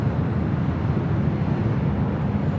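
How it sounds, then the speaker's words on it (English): WestJet Boeing 737-800 jet at LAX, a loud steady engine roar with broad rushing noise and some wind buffeting, continuous throughout with no talk. "That was WestJet Flight 1515 heading to Calgary in the 737-800."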